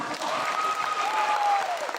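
An audience applauds at a leadership training meeting in a Kuala Lumpur hall, with many hands clapping in a dense, steady patter for two seconds and no break.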